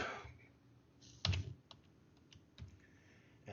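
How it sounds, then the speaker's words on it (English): A few close computer keyboard keystrokes and clicks while entering data into business software, sparse and isolated in a quiet room with no talking. "And I'm going to type here,"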